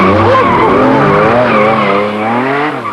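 A rear-wheel-drive supercar's tyres skid and squeal in oversteer, a loud, continuous scrabbling howl with engine noise running close and unbroken for a few seconds.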